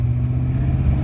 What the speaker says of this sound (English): Oh, nice MG.